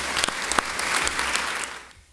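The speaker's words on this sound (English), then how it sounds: "Would you guys give them a round of applause?" Audience at a 2018 graduation service clapping for the graduates, a dense round of applause with a few sharp claps and whoops that fades out toward the end.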